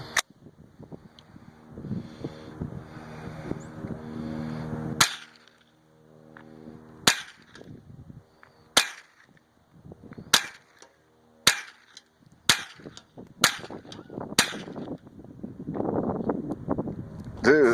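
Gunshots from target shooting outdoors, about eight sharp cracks in fairly quick succession after a quieter windy stretch, with wind buffeting the microphone between shots.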